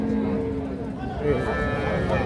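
A Holstein Friesian calf on a dairy farm gives a drawn-out, low moo close by, heard against a background of voices and farm murmur.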